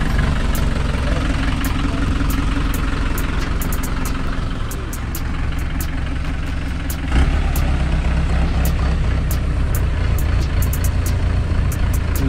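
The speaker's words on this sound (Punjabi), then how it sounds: "ਆ ਖੜਾ ਆਪਣਾ ਮੋਟਰਸਾਈਕਲ, ਚੱਲਦੇ ਹਾਂ ਹੁਣ ਆਪਾਂ" A motorcycle engine idles at a village fair, a loud, steady rumble close by that continues throughout with a brief dip midway and faint ticking in the background.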